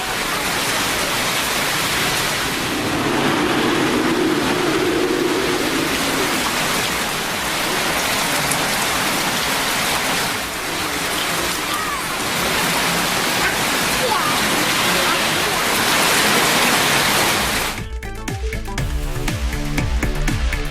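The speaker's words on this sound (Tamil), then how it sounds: "கோத்தகிரியில் மதியத்திற்கு மேல் பரவலாக மழை பெய்தது." Heavy rain pouring steadily over Kotagiri in the Nilgiris hills, a dense continuous hiss of drops on surfaces that stays loud throughout before cutting off abruptly near the end.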